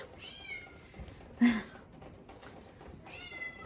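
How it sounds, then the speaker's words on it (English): A house cat meows several times, with harmonic calls near the start and again near the end and a brief louder thump in between, in a quiet indoor room. "we always have cats that are very, very verbal."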